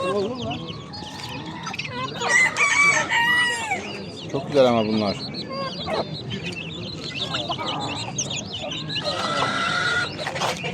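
Chickens and roosters at the busy Edirnekapı poultry market in Istanbul, with repeated crowing and clucking rising over a steady crowd murmur while people nearby talk.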